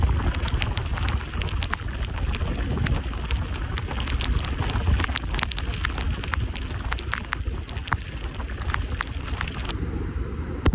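Steady rain falls in the dense Kudremukha forest, a continuous broadband wash with scattered sharp drop ticks close by, some wind buffeting mixed in, and no voices.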